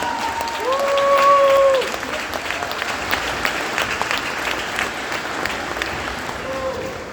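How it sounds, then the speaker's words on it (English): Graduating seniors at a high school graduation stand and applaud their parents, a broad hall-filling clapping with a brief cheer or whoop rising at the start, then steady mid-level applause that thins toward the end. "Seniors, stand up and applaud your parents."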